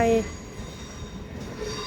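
Trains rolling through a Zurich railway station at night, a brief rumble of rail cars with a faint squeal at the start over steady station ambience.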